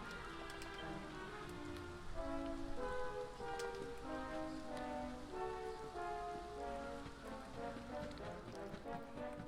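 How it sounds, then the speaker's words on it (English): Rain falls steadily in a stormy scene of the video game Dragon Quest XI, a soft hiss of drops under game music, fairly quiet. "It's all of a sudden started raining and storming"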